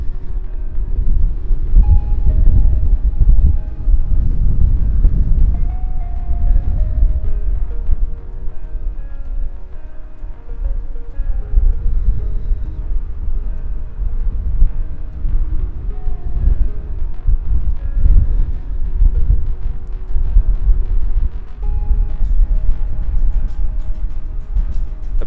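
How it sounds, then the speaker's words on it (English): Strong wind at Auckland Airport keeps up a loud, rumbling gust noise against the microphone for the whole stretch, rising and falling but never letting up. "It's a shame that it's been so windy"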